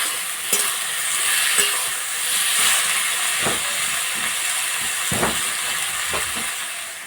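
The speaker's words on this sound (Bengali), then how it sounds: "টমেটো আর পেঁয়াজ ভালো করে ভেজে নেব।" Tomatoes and onions frying in a pan, a steady close hiss and sizzle with occasional scraping stirs and clicks of a utensil against the pan.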